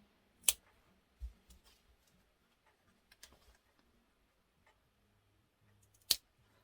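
Scissors snip notches into the fabric seam allowance of a facing while sewing a women's pajama set, giving a few sharp, close, isolated clicks spread across an otherwise quiet stretch.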